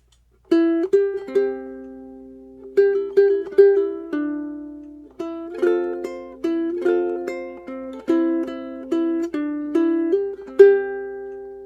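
Fingerpicked ukulele melody, bright plucked notes ringing over one another in quick phrases, with short pauses between passages.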